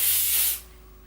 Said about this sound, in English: This side is fine, so I'm actually going to spray it.